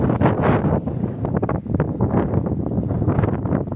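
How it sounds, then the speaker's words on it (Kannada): Strong wind buffets the microphone in loud, gusty rumbles and roars, rising and falling throughout with no voices. "ಗಾಳಿ ಭಾಳ ಇಷ್ಟ ಇದೆ ಇಲ್ಲಿ"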